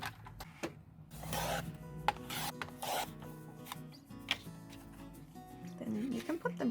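Paper greeting cards are cut at a craft table with a series of short, close rasping snips and rustles, separated by brief pauses and scattered light handling noises.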